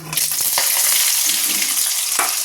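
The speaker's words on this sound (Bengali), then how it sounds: "এই যে গরম মশলা ফোড়ন দিয়ে দিয়েছি, এবার দিয়ে দেবো পেঁয়াজ।" Onions hit hot oil already seasoned with whole garam masala and fry in a loud, steady sizzle that lasts the whole moment, close up, with a few stirring scrapes and no voices.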